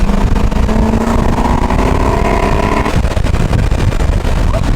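An LS3 V8-swapped BMW E36 drifting, a loud, close, sustained engine roar with a steady rising tone that drops and roughens near the end, heard from on board with no talk.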